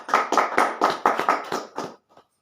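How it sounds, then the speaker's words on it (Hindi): Audience clapping at a business talk in short rhythmic bursts, about seven loud claps in quick succession that stop abruptly, followed by a faint tap. "एक बार ताली हो जाए सभी के लिए"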